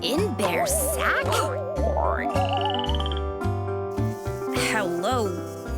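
A cartoon frog in an animated bedtime storybook croaks in a bouncy, rhythmic series of boinging calls, loud and close, mixed with playful warbling music and insect-like chirps.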